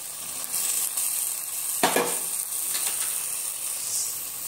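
Cauliflower florets tipped into a hot pan with turmeric for aloo gobi matar, setting off a steady, loud sizzle and hiss with a sharper burst of crackle as the pieces land and are stirred.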